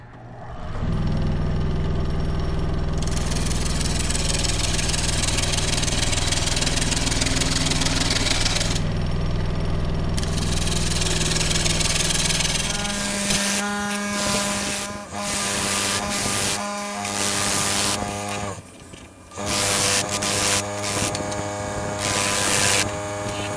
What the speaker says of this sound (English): so I have it mounted on the lathe, and I'm just going to really quickly get it back to